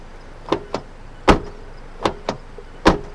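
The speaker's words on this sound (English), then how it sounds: "The gas cap is rattling and gives you a little bell chime when you open and close the doors." Several sharp metallic clunks spaced irregularly, a 2020 Mazda 6 Turbo's door closing with a light rattling knock of the loose gas cap after each, close by.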